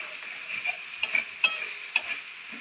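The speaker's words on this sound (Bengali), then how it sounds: "দিয়ে ভালো করে কষাতে হবে" Egg curry masala with small pieces of boiled potato sautés in a pan, with a constant low sizzle broken by a few sharp scraping stirs of a spatula.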